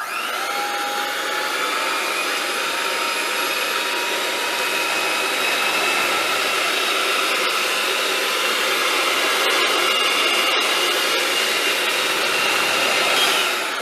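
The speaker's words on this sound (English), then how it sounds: "My mixer goes to 5 different speeds, so this is how it's gonna look." A loud, steady electric mixer whine as it beats sweet potato pie filling, a continuous high-pitched motor drone held close throughout with no speech.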